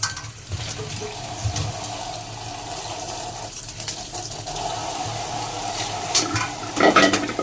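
Running water splashes and gurgles steadily while something is washed under it, close and fairly loud, with some clattering toward the end.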